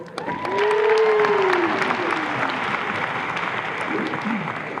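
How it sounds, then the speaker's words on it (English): A large crowd at the University of Hawaii West Oahu 2025 commencement ceremony gives sustained applause for several seconds. A voice rings out over the clapping near the start, and the applause gradually thins toward the end. "Let's give them another round of applause."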